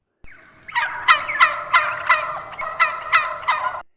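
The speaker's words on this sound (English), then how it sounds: "Perhaps the most frequent sound turkeys make to communicate with one another is a yelp." A series of turkey yelps, about eight evenly spaced raspy calls, close and fairly loud, with no other sounds.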